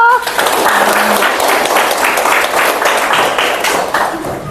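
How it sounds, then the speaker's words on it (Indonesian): Classroom audience applause for a student, loud close clapping that starts just after a brief voice and continues densely and steadily, tapering slightly at the end. "Oke, tepuk tangan dulu."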